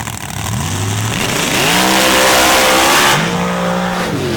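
An outlaw-class drag racing car at an MRA championship finals round roars loudly and close, its engine pitch climbing and holding through a sustained pull, with possible tire squeal.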